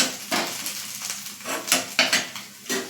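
Garlic bread topping mixture, with coriander added, being stirred in a pan: a few soft, close scrapes and clinks of a spoon against metal, spaced irregularly over a quiet background.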